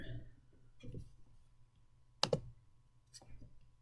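Mouse clicks opening a OneNote notebook on a computer: a few soft, quiet clicks spaced apart, with one sharper double click in the middle, over a faint background hum.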